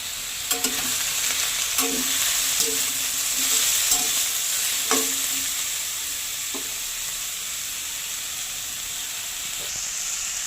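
Turmeric and chili powder are stirred into watermelon rind frying in a pan: steady close sizzling with repeated scraping stir strokes during the first half, then continued frying hiss alone.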